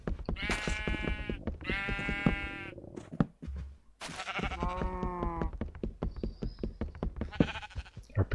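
Minecraft sheep bleat repeatedly in a pen, several loud, wavering calls overlapping with short knocks and block sounds, close by with no talk.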